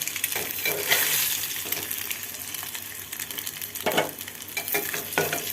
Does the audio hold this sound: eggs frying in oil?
yes